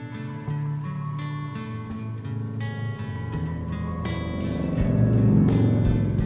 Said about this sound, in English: Sorry if you can hear the cars going by.